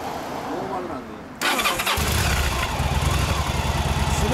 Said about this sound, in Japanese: エンジン音かけてもらえますか